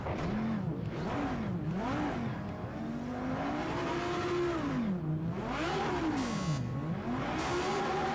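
An Audi R8 LMS race car engine in Project Cars 2 at Le Mans revs up and down continuously, pitch rising and falling through gear shifts, loud and close with a synthetic, game-like steadiness.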